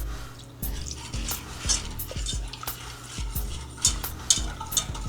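A whisk stirs flour, sugar and salt into a milk paste in a pan, giving a steady run of quick metallic clinks and scrapes against the sides, close up and fairly quiet, with no talking.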